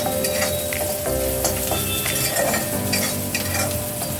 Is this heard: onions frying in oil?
yes